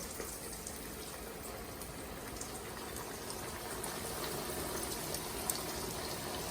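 Pork chops pan-frying in hot oil give a steady, dense sizzle and crackle that holds at an even level for several seconds, with small pops scattered through it and no talking.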